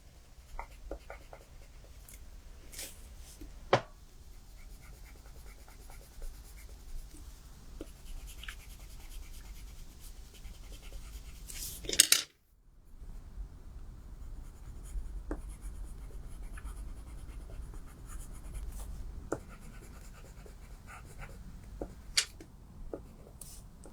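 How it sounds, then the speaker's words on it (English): A pencil scratches and rubs steadily as it colours in a stamped wedding card, soft and close, with a few tapping clicks and a brief louder rustle partway through. "so that's my pencil colouring"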